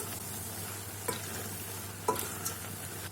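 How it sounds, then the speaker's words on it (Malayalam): Prawn thoran with ground coconut paste is stirred in a hot pan, a steady soft sizzle underneath with a couple of scraping spatula strokes, close and unbroken by voices. "ഞാൻ അരപ്പ് എല്ലായിടമായിട്ട് മിക്സ് ചെയ്തിട്ടുണ്ട്."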